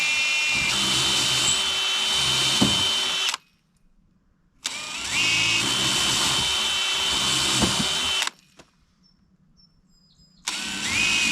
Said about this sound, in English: I'm using an 1/8 inch drill bit.